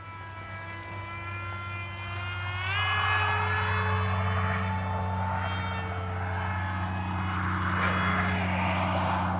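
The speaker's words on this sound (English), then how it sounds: "One thing I do notice about this plane too, given that it's a beginner plane, is it's noisy." An Arrows Prodigy 1.4m RC plane flies overhead, its electric motor giving a steady, noisy whine whose pitch bends up and down as it passes and turns, moderately close and swelling partway through.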